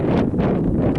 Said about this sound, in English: It was a windy day, my friends.